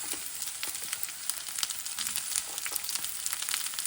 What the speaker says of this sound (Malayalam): കടുക് പൊട്ടി തീരുമ്പോൾ നമുക്കതിലേക്ക് വെളുത്തുള്ളി ഇഞ്ചിയും അരഞ്ഞു വെച്ചിരിക്കുന്ന ഇട്ട് കൊടുക്കാം